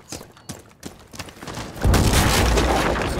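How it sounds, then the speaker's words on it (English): A cannon-like blast in a Rainbow Six Siege ranked match on the Villa map: scattered sharp impacts, then a heavy sustained boom and rumble that roars on to the end of the clip. "They have a cannon or something."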